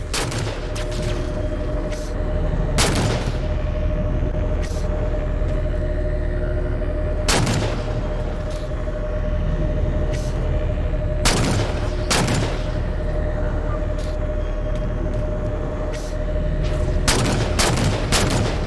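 Halo 4 gunfire pounds a ship's hull: sharp, loud impacts strike in irregular bursts, some doubled or clustered, over a constant low engine rumble and steady hum, with no voices.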